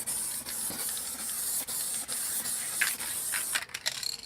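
A can of black crackle spray paint hisses onto paper in close, sustained bursts with short gaps between them, ending in a few lighter clicks and rattles as the spraying stops.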